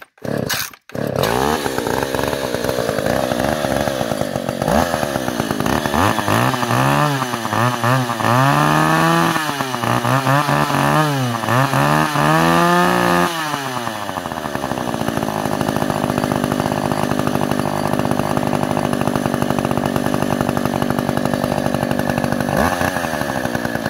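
A Stihl 015 chainsaw engine runs loud and close, revving up and down in repeated surges before settling into a steady, continuous idle-like drone for the rest of the clip.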